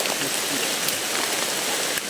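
Steady rain pattering on bushes outdoors, a dense, continuous hiss of drops with a few slightly louder taps, no voices.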